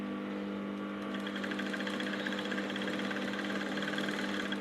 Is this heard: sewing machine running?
yes